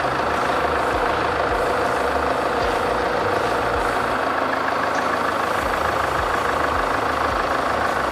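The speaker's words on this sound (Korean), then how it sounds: "그리고 엔진 소리 일정하고 좋습니다." A Land Rover Range Rover Evoque 2.2 SD4 diesel engine idles up close in the open engine bay, with an even, continuous clattering rumble and no talk.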